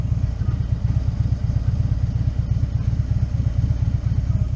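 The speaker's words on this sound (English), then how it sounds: "This is what my engine sounds like when the temperature management system is shutting down the rear cylinder." A motorcycle engine on a hot day idles unevenly with a low, lumpy pulsing and occasional popping as its temperature management system shuts down the rear cylinder, running steadily and close by.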